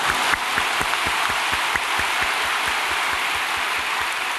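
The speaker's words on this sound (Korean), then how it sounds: "박수를 치니 좋은데 나도 한번 치겠습니다." Congregation at an early morning church service clapping hands together in a steady, even rhythm of distinct beats over a loud constant hiss of crowd noise.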